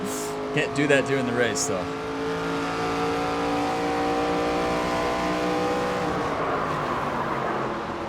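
A race car in NASCAR 25 at Phoenix revs hard and holds a loud, steady, rising engine drone close up, with someone talking briefly over the start.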